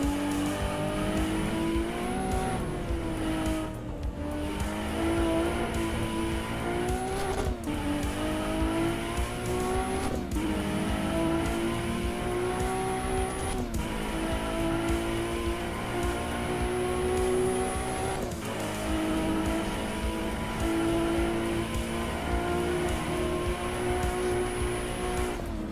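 Race car engine in the Assetto Corsa EVO sim, played in VR, held at high revs with pitch rising and falling through gear changes, plus occasional tire squeal and skidding; loud and continuous throughout, no talking.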